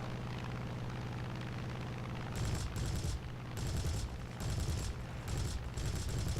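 An F4U-1C Corsair fighter in a realistic air-combat video game drones with a steady engine roar, then fires repeated short, loud bursts of cannon fire in a rapid rhythm through the second half.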